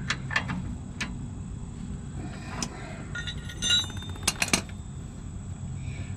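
A wrench clinks against a bolt while the shocks are replaced on a 2004 Ford F250, making sharp, irregular metallic taps and clicks close by over a low background hum.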